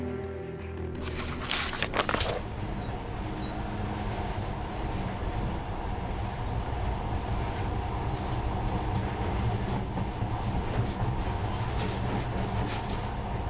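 Monorail train rolling along in Metro Last Light Redux, a steady low rumble with rail clatter that holds throughout, and a brief brighter burst near the start.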